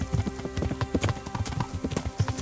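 Horse hooves clip-clopping at a steady walking rhythm in the medieval game Kingdom Come: Deliverance, close and fairly loud, with faint ambient tones underneath and no talking.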